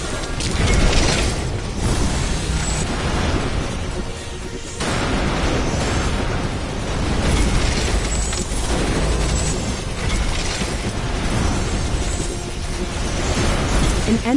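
A destroyed base building blows up in The Riftbreaker, giving loud, dense crashing and booming blasts that roll on continuously, with a brief lull midway before the rumbling explosions pick up again.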